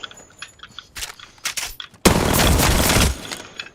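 Rapid automatic gunfire from the Apex Legends video game: a few short scattered bursts, then a loud, dense sustained volley lasting about a second before cutting off.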